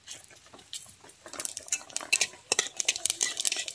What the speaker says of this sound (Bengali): তেল গরম হয়ে গেছে, আমি এবারে দিয়ে দিচ্ছি শুকনো লঙ্কা আর 5 ফোড়ন।